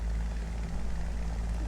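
A propeller plane engine drones in a video game, flying with a damaged right wing: a loud, continuous low rumble with a steady buzzing hum, unbroken throughout.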